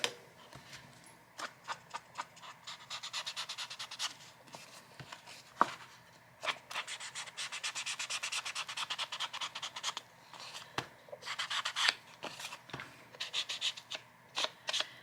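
Edges of a gluebook paper page being inked, with repeated soft scratchy rubbing strokes and small taps in irregular bursts, close and quiet.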